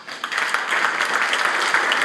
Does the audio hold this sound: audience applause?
yes